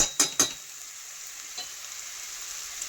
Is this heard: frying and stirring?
yes